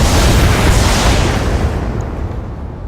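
A volley of SRM missiles fired by a mech in the Battletech video game, a loud, dense blast of explosive roar that holds steady then fades out over a few seconds, with no speech.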